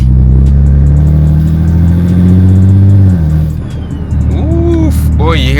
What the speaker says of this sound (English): Boy, you hear that turbo spooling?